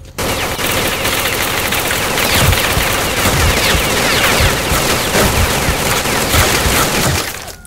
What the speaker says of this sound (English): there seems to be gunfire